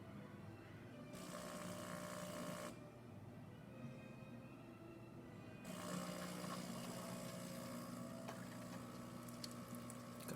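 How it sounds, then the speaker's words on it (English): A DeLonghi espresso machine after a full tune-up pumps a shot of espresso, its steady pump hum and water flow switching on and off in loud stretches, with a rattling mechanism between them. "Coffee coming out great, really good color."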